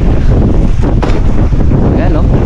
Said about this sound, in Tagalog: Yung hangin dun